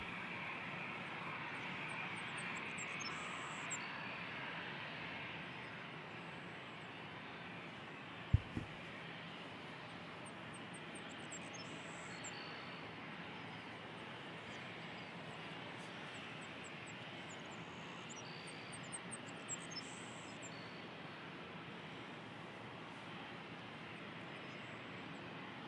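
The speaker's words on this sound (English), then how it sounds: "This is an Airbus A321 headed to Halifax, Air Canada." An Air Canada Airbus A321 departing Toronto airport for Halifax, a distant, steady jet engine roar that holds at a low, even level throughout, with a brief thump partway through.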